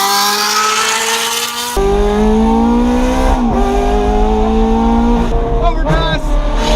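Straight-piped Ferrari supercar exhaust roaring loud and close, revving hard with rising pitch sweeps through gear changes as the car drives, with brief lifts and crackles near the end.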